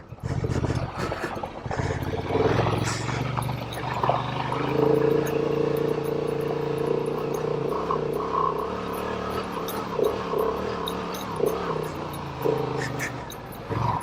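A Honda Transalp 750 motorcycle climbs an off-road hill on stock tires, its engine droning steadily and rising in pitch, close and moderately loud.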